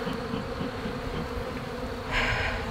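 A dense, steady buzzing of many bees or flying insects, continuous throughout, growing a little louder and brighter near the end.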